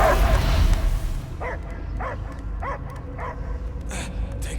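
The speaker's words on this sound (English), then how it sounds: "I hear only barking." A dog barks and yips in Marvel's Guardians of the Galaxy video game, a run of five or six evenly spaced sharp barks over a dense cinematic background rumble.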